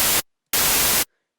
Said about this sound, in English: and change the wave to white noise, or noise white